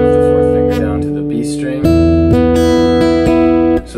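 A brief voice, then a guitar chord phrase rings out, a few strummed chords struck in a row with sustained, clear tones.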